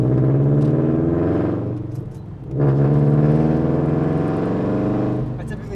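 A 2020 Subaru BRZ engine revs loud and close in a steady raspy drone that dips briefly as the throttle lifts, then swells again and holds.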